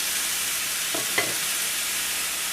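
Garlic and ginger cooking lightly in a pan alongside mushrooms, giving a steady soft sizzle with a couple of brief stirring scrapes near the middle.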